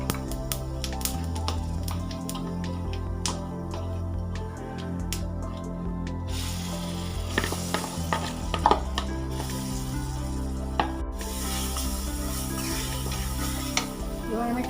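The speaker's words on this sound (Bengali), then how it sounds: "ছোলার ডাল বাটাটাকে তেলের মধ্যে ভালো করে নাড়তে হবে" Ground chana dal paste is stirred in hot oil with asafoetida and cumin, a steady sizzle under repeated scraping and stirring clicks of a utensil against the pan, close by.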